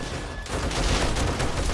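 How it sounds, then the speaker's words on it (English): Automatic turrets firing in the zombie survival game 7 Days to Die on insane difficulty, a dense, continuous burst of rapid gunfire that fills the whole clip without pause. "I think he's left the turrets on as well."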